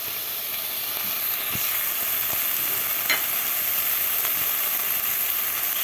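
A spoon stirs spinach borani in a hot pan with steady scraping strokes over a continuous close sizzle and frying hiss, with no voices.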